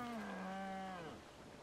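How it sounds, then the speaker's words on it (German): A mutant creature in the video game Metro Exodus lets out a drawn-out growling, moaning cry, like a bear cub, with a falling pitch that fades out after about a second. It is fairly close and no one speaks over it. "Das hört sich an immer wie ein Bärenjunges."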